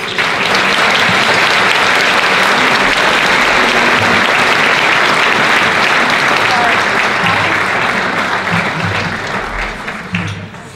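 Loud, sustained audience applause fills a gala hall as a speaker is welcomed to the stage, a dense wash of clapping that holds steady for about ten seconds before beginning to thin out.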